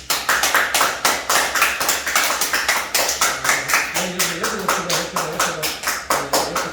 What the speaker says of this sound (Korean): 자, 박수 한번 칩니다.